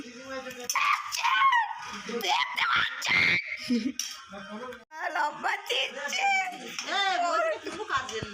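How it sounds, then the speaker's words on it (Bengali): Children shout, scream and giggle noisily at a Nabanna harvest festival gathering, with overlapping excited voices close by and brief bursts of laughter. "এই দেখতে পাচ্ছেন ছেলে পিলেরা কিরকম হই চই করছে, চেঁচামেচি করছে"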